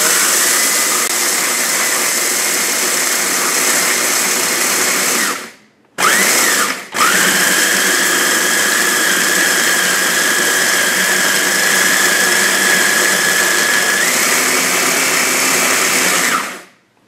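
A 600 W chopper with a stainless steel bowl grinds coffee beans in a loud, steady motorized whir that runs for several seconds, stops briefly, restarts, then continues before cutting off.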